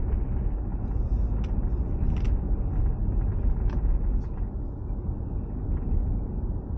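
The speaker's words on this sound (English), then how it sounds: "Now the road noise, being a diesel, we'll just have a listen to the road noise." Steady low road rumble inside a 2023 SsangYong Rexton diesel SUV while driving, a constant dull drone with faint tire hiss and a few light clicks, no talking.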